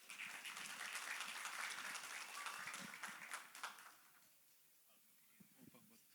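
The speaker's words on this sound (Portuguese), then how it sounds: "uma salva de palmas para ele" An audience applauds at a Cooperamais event after a guest linked to IFAM is invited up: dense clapping for about four seconds, then it fades out, leaving near silence with faint scattered sounds.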